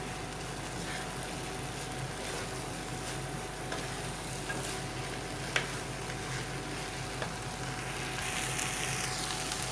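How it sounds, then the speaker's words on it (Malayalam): Tomato rice with masala stirred in a hot pan, giving a steady, even sizzle and soft scraping that runs throughout without a break. "കുറേശ്ശെ ഇളക്കി ആ മസാല എല്ലാ റൈസിലും എത്തുന്ന പോലെ പതുക്കെ ഇളക്കി കൊടുക്കാം"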